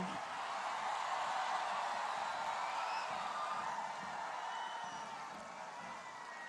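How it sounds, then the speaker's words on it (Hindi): A large outdoor crowd at a peace and development rally in Diphu, Assam gives a low, distant wash of applause and cheering. It holds steady for several seconds and then gently fades. "हम उनका जोरदार तालियों से हार्दिक आभार व्यक्त करते हैं।"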